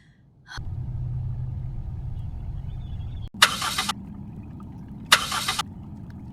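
An overheated car engine cranks to life and labors with a low, heavy rumble, broken by two harsh bursts of loud noise.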